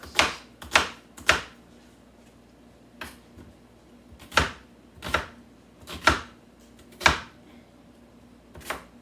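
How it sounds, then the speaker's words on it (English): Onions are chopped into chunks with a knife, making about a dozen crisp, close knocks in irregular bursts with quiet pauses between them. "We'll put these onions in little chunks."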